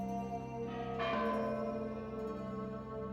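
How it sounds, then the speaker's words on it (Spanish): Church bells toll with a strong, lingering resonant tone that fades slowly, heard alone without any voices. "Han doblado las campanas en la iglesia mayor y también en todas las parroquias con mucha solemnidad."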